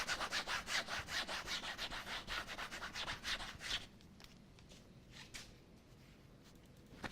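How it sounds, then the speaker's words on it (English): Rag soaked in mineral spirits scrubbed back and forth over wet oil paint on canvas, a fast rhythmic rasping rub for about four seconds, then quieter, sparser strokes with pauses, close and alone. "take some turpentine, or in our case, some mineral spirits on a rag, and just scrub back into the surface"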